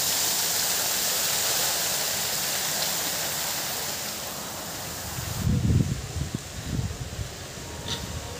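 A mountain waterfall in Jammu and Kashmir pours with a steady, broad rushing hiss, joined later by rumbling wind or handling noise near the microphone.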